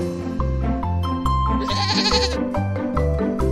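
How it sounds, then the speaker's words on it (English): A goat bleats once in a short wavering call over a bouncy children's music backing, fairly close and clear. "This is a goat."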